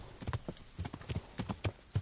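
Horse hooves galloping in Kingdom Come: Deliverance, a fast rhythmic clip-clop of repeated thudding beats, close and steady for the whole stretch, with no voices over it.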